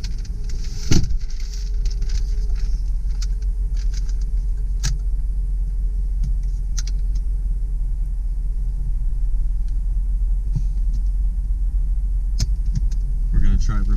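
A 1993 Jeep Grand Cherokee Grand Wagoneer Limited woody ZJ idles and rolls with a steady low engine rumble heard from inside, a sharp knock near the start and a few light clicks and rattles over the drone.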